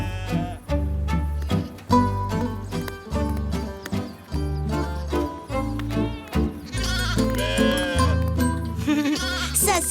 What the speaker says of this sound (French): Ça, c'est une gentille brebis